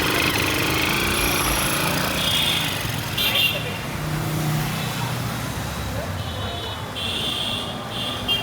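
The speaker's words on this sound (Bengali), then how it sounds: "বাইকটা চালাই কি কীরকম লাগতেছে" A Lifan KP 150cc motorcycle modified into scrambler style runs as it is ridden, its engine a loud, steady close drone with wind and road noise, while a voice talks over parts of it.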